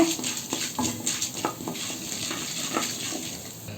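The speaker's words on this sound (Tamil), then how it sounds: "ஒரு ஸ்பூன் கடலப்பருப்பு போட்டுக்கணும் ஒரு ஸ்பூன் உளுத்தம்பருப்பு போட்டுக்கணும் கொஞ்சம் கலர் வர்ற வர இது போல் நல்லா கலறி விடுங்க" Chana dal and urad dal fry in oil in a pan while a spoon stirs them, giving a steady close sizzle broken by repeated light scraping and clinking against the metal, no talking.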